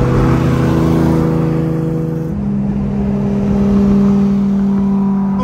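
A powerful Porsche 911 GT3 RS engine roars loudly and steadily, its pitch shifting as it revs, close by with no talking.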